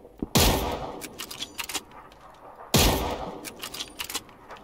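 Two heavy bursts of gunfire ring out in the PUBG battle game, each a loud sharp crack followed by a rattle of quicker shots that trails off, with no talking over them.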